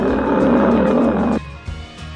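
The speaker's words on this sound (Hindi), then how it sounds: "शेर के दहाड़ने की आवाज़ सुनिए।" A lion roars loud and close in a single long, rumbling call that cuts off abruptly, followed by a brief quieter tail.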